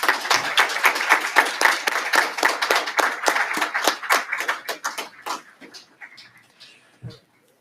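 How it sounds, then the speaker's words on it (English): Audience applause at a graduate hooding ceremony: dense, loud clapping from a large crowd that thins out toward the end and stops, with one last faint clap. "Will the graduates and faculty please join me in a round of applause for all those faculty, friends, and loved ones joining us today."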